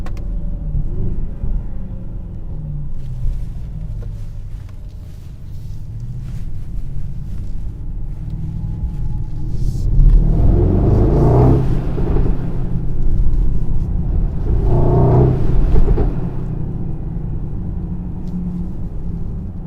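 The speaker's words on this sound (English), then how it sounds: "it is definitely fun driving a very large, heavy GLS with 630 horsepower" A 2022 Mercedes-AMG GLS 63 SUV with 630 horsepower drives along with a low cabin rumble, then swells in two strong bursts of acceleration.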